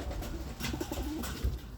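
Stock pigeons cooing softly in a loft, a low, muffled coo or two heard close over steady background noise, with no talk.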